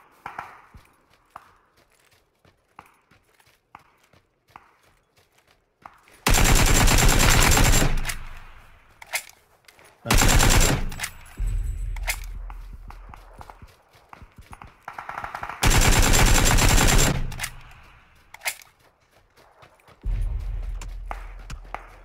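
Loud bursts of automatic gunfire in PUBG, three long sustained volleys with shorter pops between them, close and harsh over a quiet background.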